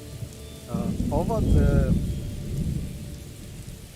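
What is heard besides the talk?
rain falling in the video game Morrowind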